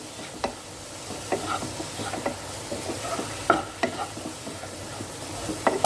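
Okra curry with tomato being sautéed in a pan: a soft ongoing sizzle broken by a rhythmic series of scraping, clacking spatula strokes, close and uneven, with no voices.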